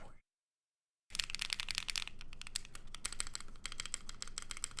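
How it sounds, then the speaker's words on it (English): Rapid mechanical key clatter from a custom-built AGAR mechanical keyboard, brisk and close, starting after a brief silence and running steadily as a dense stream of clicky keystrokes with no talking. "I'm really disappointed by how this board sounds right now."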